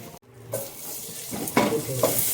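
Chopped garlic sizzling in butter and white oil in a pan, a steady close frying hiss with a few louder stirring bursts.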